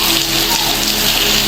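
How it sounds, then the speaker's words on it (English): Heavy rain, a loud steady hiss of dense falling water that fills the whole moment with no pauses, close and constant. "It's raining heavily here."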